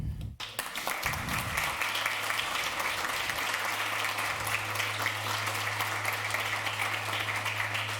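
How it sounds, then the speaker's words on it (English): Conference audience applause at a developer event, broad continuous clapping from a large room after a talk, steady and fairly loud, accompanied by a low electrical hum. "Oh, that was your applause."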